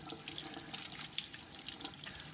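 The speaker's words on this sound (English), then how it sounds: "Usually let the water run and wash out any loose goop." A kitchen tap runs and splashes unevenly as a lobster is rinsed of loose goop beneath it, a close, continuous watery spatter with no voices.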